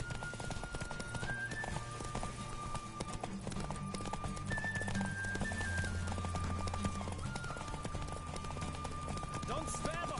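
Rapid hoofbeats of a galloping horse in The Witcher 3 with a neigh partway through, over a steady layer of music and game sounds.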